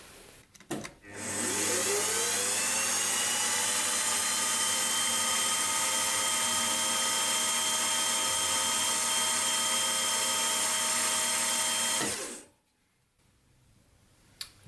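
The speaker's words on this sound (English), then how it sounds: "using this slot drill just to countersink it a bit" A slot drill cuts a countersink into a metal part for a hit-and-miss engine fuel mixer, a steady loud machine whine with tonal harmonics running unbroken for about eleven seconds, then stopping abruptly into near silence.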